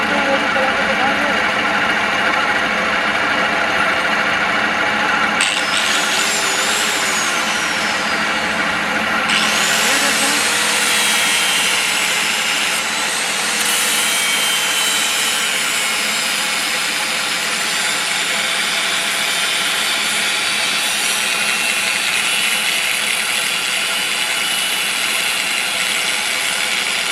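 A homemade generator engine runs continuously with a loud, steady droning hum and a faint whine, while a person talks over it throughout.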